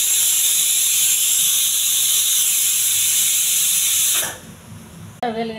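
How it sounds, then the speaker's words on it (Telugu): A pressure cooker whistle blasts steady, loud steam hiss for about four seconds while cooking senaga chickpea fry, then cuts off abruptly, leaving brief clattering and a short voice afterward. "నాలుగైదు విజిల్ రానివ్వాలి."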